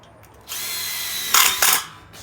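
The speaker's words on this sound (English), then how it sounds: "get yourself a tech gun and some of the tech screws which are provided" A tek screw gun drives a screw into a Colorbond steel fence panel, a sharp high-pitched drill whine held for about a second, then two louder bursts as the screw seats, close and alone.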